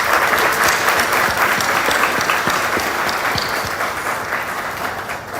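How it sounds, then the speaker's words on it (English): Loud, sustained audience applause for the organizers at a gathering in Nairobi, Kenya, a thick crowd of clapping hands that stays strong before tapering slightly toward the end. "Can we join me in giving all the organizers a huge round of applause?"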